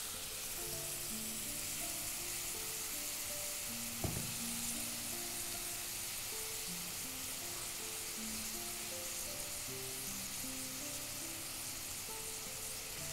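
Potatoes and onions for Cardin curry sautéing in a pan, a steady loud sizzle and frying hiss throughout, with one sharp knock partway through and no speech.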